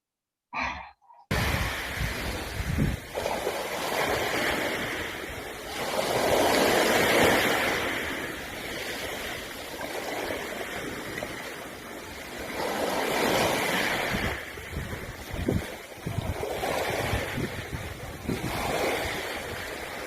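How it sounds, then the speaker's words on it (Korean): Ocean waves at Gwanpo beach in Gyeongju roll in with a continuous roar, swelling and receding in slow surges, mixed with wind buffeting the microphone after a brief opening sound. "경주 관포 해변의 파도 소리와 함께 감상해 주시죠"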